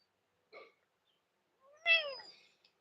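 A cat meows twice, a short faint mew followed by a louder, longer drawn-out meow about a second later, close by in a quiet room with no talking.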